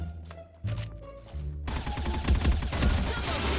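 Gunfire in the mobile shooter Bullet Angel: after a few muffled thumps, a dense, loud fusillade of rapid shots builds and continues to the end.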